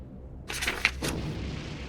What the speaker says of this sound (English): A great boom rings their ears, but it is not the sound of an explosion, but the sound of a mighty footstep.